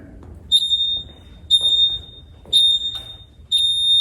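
A workout interval timer beeps during a TRX progressive workout, giving four evenly spaced, clear electronic beeps about one second apart over quiet room noise.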